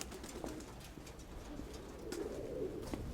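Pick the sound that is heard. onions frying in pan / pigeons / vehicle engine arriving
pigeons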